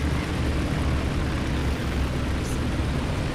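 Propeller aircraft in War Thunder droning past over a steady low rumble of ground battle noise, continuous and fairly loud throughout.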